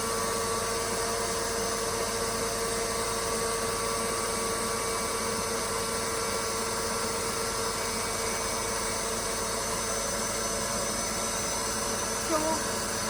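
An electric mixer whisks meringue toward stiff peaks for Japanese souffle pancakes, a loud, unbroken motor whine with a steady high buzz held for over twelve seconds.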